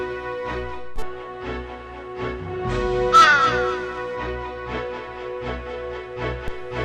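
Crows cawing in an animated children's story, several loud harsh caws in an irregular series over soft background music.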